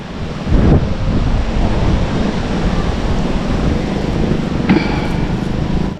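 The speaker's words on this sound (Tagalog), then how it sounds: "Dahil sobrang lakas po ng hangin. Tapos malakas po ang agos." Strong wind and a fast current in deep river water make a loud, continuous roaring rush close by, with a couple of brief splashy surges.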